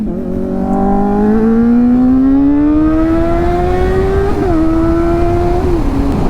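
A truck's loud engine revs up through its gears, pitch climbing steadily with a couple of shifts, as it accelerates close by over wind rumble.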